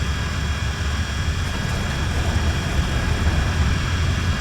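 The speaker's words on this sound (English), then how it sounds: "Fire up our right engine." An aircraft engine runs up in a MilViz flight simulator, giving a steady, loud drone with a low, even rumble and constant tone throughout, with no voices.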